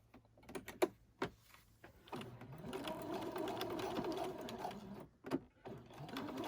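Home sewing machine stitching fabric for a newborn elf outfit, starting with a few short taps and then running in a steady mechanical whir for a few seconds, close and fairly quiet.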